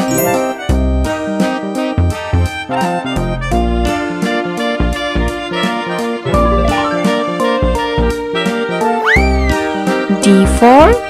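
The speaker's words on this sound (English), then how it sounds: "Cat." A cartoon-style cat meows amid a bright, busy children's song with steady music throughout, as part of an alphabet learning sequence.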